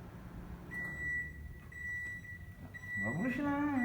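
A microwave oven running while cooking food, giving off a low steady hum with intermittent thin high electronic tones, under a voice speaking Portuguese partway through.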